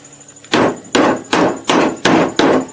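A nail is hammered into a soft pine wooden beehive frame, six sharp, evenly spaced hammer blows ringing close and loud with no talking.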